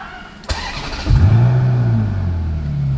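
A Ferrari California starts up, heard from inside the cabin: a sharp crank, then the engine catches with a loud surge and settles into a deep, steady idle.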